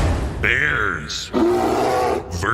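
A bear roars as a sound effect in a Jackbox party video game, a loud, drawn-out growling bellow with voices talking over and around it.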